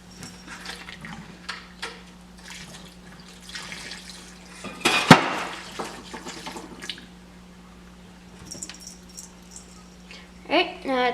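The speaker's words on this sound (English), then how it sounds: "you're going to drain all the gas out." Gasoline drains from the fuel tank of an Echo HC 1500 hedge trimmer into a plastic bottle, a thin trickle and gurgling splashes close by, with someone talking over it.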